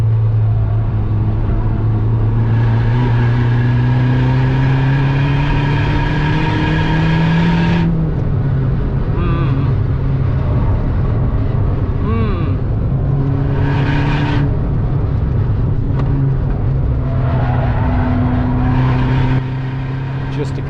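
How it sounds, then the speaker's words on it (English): Volkswagen Polo WRC rally car with a 330 hp engine that is misfiring, heard from onboard with loud, continuous engine drone whose pitch climbs and drops through gear changes, with uneven stutters and talk over it. "Yes, we know the engine is misfiring."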